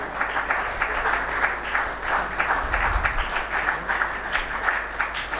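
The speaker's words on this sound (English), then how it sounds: "Can we have a huge round of applause?" Audience applause at the PBD Odisha Economic and Banking Conclave, a moderately loud, steady wash of clapping sustained throughout with a low rumble partway through.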